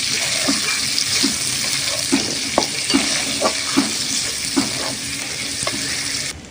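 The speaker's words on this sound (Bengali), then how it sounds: "পেঁয়াজটাকে ভালো করে লাল লাল করে ভেজে নেবো" Chopped onions fry in hot oil in a pan with a steady, close sizzle, while a spatula stirs and scrapes them in a regular rhythm of soft knocks roughly every half second.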